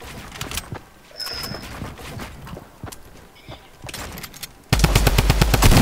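Small pistol shots in an arena-mode shooter game, a quick series of sharp cracks for most of the stretch, then a dense, loud burst of rapid fire near the end.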